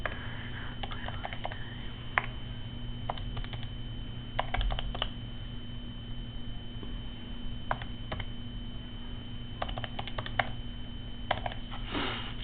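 Fingers tap out a function on a graphing calculator's keypad in short irregular bursts of small clicks separated by pauses, close and quiet over a faint steady hum.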